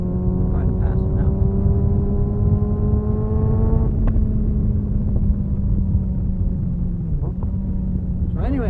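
A Kawasaki ZX6R motorcycle engine drones steadily and loud throughout, its pitch holding then dipping slightly before rising again as the bike gets on the throttle to pass, with wind noise over it.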